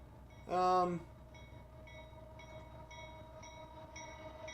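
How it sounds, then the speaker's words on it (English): An autorack freight train passing at Mount Pleasant: a short horn blast, then a steady, moderately distant rolling rumble with faint tonal squeals from the cars. "So this would be a Autorack train"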